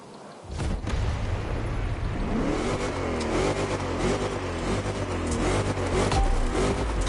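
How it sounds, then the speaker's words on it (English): A 2010 Chevrolet Silverado 1500 Monster Edition truck in The Crew Motorfest roars loudly as its engine revs and accelerates, a continuous heavy growl that rises and holds for several seconds with no voices over it. "I'm driving a freaking monster truck."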